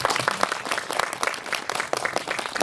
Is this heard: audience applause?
yes